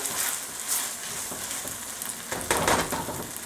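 Shredded capicollo sizzles softly in a pan of spinach risotto, a faint continuous frying hiss with a few brief stirring scrapes near the end.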